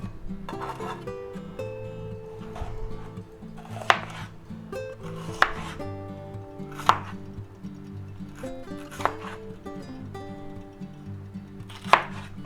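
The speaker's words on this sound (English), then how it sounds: "Cut them in fairly big chunks." A knife chops peppers into big chunks on a cutting board, giving steady rhythmic thuds with several sharper, louder cuts spaced a second or two apart over a low humming background.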